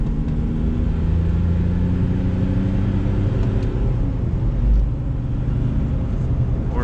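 A Smart Fortwo CDI diesel engine drones steadily from inside the cabin while its gears are shifted manually, a low continuous rumble with a slight swell in revs partway through.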